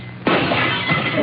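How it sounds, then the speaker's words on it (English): Glass shatters in one sudden broadband crash, then a long scatter of tinkling shards that keeps going to the end. It is a sound effect from a 1947 ABC radio comedy broadcast, loud and close with no voices. "And a shattering of glass."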